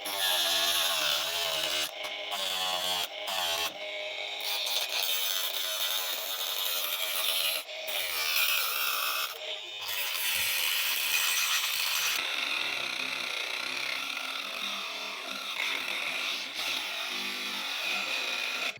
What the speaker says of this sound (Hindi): कितनी अच्छी तरह से ये काट रहा है।